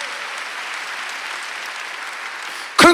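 Church congregation at a Wednesday worship service breaks into a steady round of applause, dense and even throughout, with a voice cutting in abruptly at the very end.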